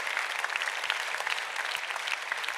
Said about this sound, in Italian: Facciamo adesso un applauso